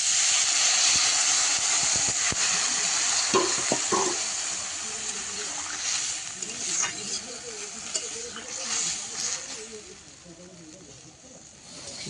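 Bitter gourd fries in hot oil in a pan, with a steady loud sizzle that eases slightly over time and is broken by occasional stirring scrapes, heard up close.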